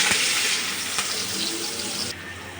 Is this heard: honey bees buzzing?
no